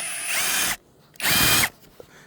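A cheap cordless drill bores into pear wood in two loud whining bursts separated by a short pause, close to the microphone with no talking.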